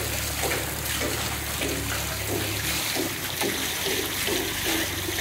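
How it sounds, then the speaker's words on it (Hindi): Water runs steadily from a village well through a channel, a continuous splashing, gurgling flow that stays close and even throughout with no voices. "ये ऐसे पानी आता है कुएं से"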